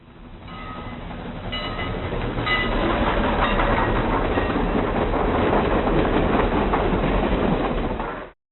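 A moving train from the Voyager Golden Record sound collection rumbles loudly and steadily, with a dense rolling roar and faint rhythmic wheel clatter that swells in and then stops abruptly.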